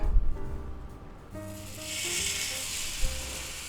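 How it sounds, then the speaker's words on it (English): Ground meat hits hot oil in a cast iron skillet, a soft sizzle swelling into a steady close hiss after a few quiet moments, with faint tonal clatter underneath. "Now we just add our meat to the skillet."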